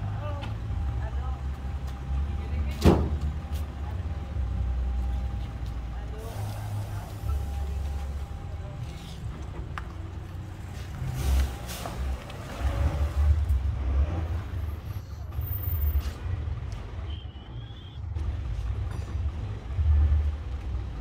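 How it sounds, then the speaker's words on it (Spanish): A car fitted with an automatic pedestal bike rack for three bicycles, driving along: steady low road rumble and engine drone throughout, with a few brief knocks and rattles over the noise. "vamos a probar el carro en movimiento"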